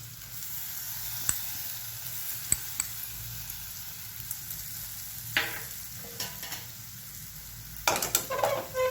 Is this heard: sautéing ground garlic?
yes